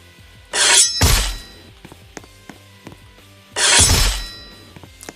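A sword spin attack sound effect in a sword battleground video game: two loud, crashing, shattering whooshes about three seconds apart, each with a ringing tail, and small taps in between.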